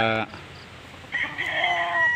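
Backyard chickens cluck and a rooster crows: a short harsh call opens, then a brief lull before clucking and a rising crow build up close by.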